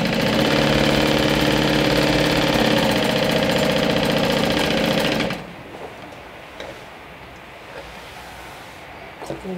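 A sewing machine runs steadily for about five seconds, stitching the bottom seam of a fleece makeup bag with a 3/8-inch seam allowance, then stops, leaving near silence.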